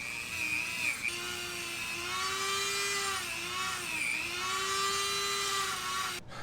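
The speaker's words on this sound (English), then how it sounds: "I had to give my Dremel a little break. It felt like it was getting pretty hot" A Dremel rotary tool grinds and cleans a frag body, producing a continuous high-pitched whine whose pitch dips and rises repeatedly as the bit loads and frees up, fairly close and steady throughout.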